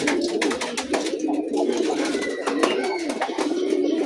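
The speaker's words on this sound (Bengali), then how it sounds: "এই যে এগুলো হচ্ছে সব বাচ্চা কবুতর" Young pigeons coo softly in a loft, a steady overlapping murmur of bird calls with a few brief chirps throughout.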